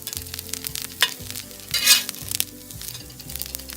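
Cauliflower, kale and quinoa patties sizzle steadily on a cast iron griddle, with a spatula scraping and clattering against the metal, including a louder burst of hissing near the middle; no voices.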